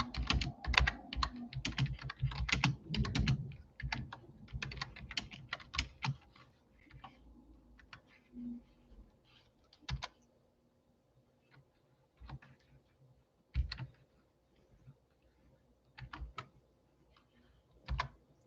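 Typing on a computer keyboard indoors: close, dense bursts of rapid keystroke clicks at first, then thinning into short scattered flurries separated by quiet pauses.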